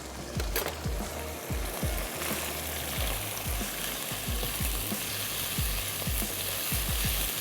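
Bamboo shoot stir fry sizzles and clatters in a hot pan as Worcestershire sauce is mixed in, with steady frying hiss and repeated spatula scrapes throughout, no talking.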